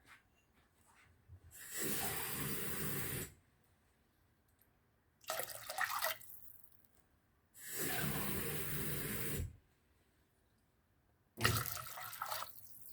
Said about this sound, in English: I've put in 5 cups of water.